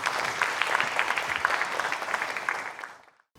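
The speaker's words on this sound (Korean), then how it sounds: "큰 박수 부탁드리겠습니다" An audience claps steadily as a speaker is welcomed to a KAIST lecture hall, dense applause fading out over the final half second.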